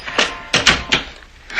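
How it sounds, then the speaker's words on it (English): Door being opened, a few close wooden knocks and clunks of the latch and handle in quick succession, then a short quiet pause and a soft final shuffle. "Open the door."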